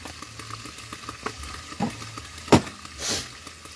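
Apan-apan, a water spinach dish, is stir-fried in a pan with a low steady sizzle and a few louder scraping and clattering stirs near the end.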